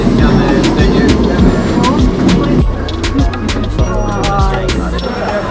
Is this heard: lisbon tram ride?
yes